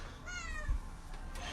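A house cat meows in a single drawn-out, whiny call up close, with no talking and a faint room hum behind it.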